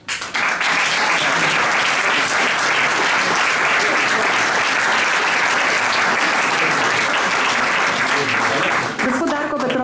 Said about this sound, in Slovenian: Zdaj le bomo zaploskali dobitniku srebrnega ključa